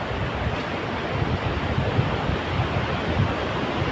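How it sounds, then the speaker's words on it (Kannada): Water rushing forcefully from a dam near the Ramanakatte Medini waterfalls: a steady, loud broadband roar with constant churning and no voices. "ಆ ನೀರನ್ನು ರಭಸ ಇದು ಫೋರ್ಸಾಗಿ ಹೋಗ್ತಾ ಇದೆ ನೋಡಿ ಆ ಡ್ಯಾಮಿಂದ"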